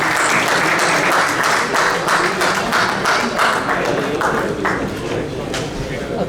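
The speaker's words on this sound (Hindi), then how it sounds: "बहुत सारी तालियों में।" An audience at a Pakistani community annual dinner in Chicago claps for an award recipient, brisk steady applause that gradually thins toward the end.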